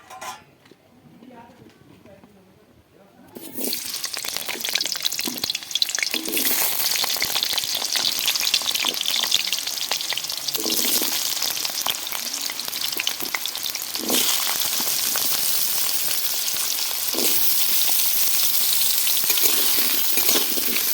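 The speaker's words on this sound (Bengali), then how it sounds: "এবার আমি আলুগুলো ভাজার জন্য তুলে দেবো।" Potatoes dropped into hot oil in a wok burst into a loud, continuous sizzle after a quiet opening, with periodic scrapes and clinks of stirring.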